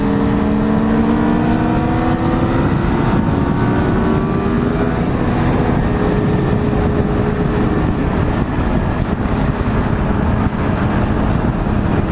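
A motorbike accelerates hard to overtake, its loud engine note climbing steadily in pitch over a constant roar of wind and road noise.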